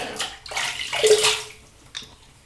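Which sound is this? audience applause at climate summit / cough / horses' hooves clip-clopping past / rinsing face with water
rinsing face with water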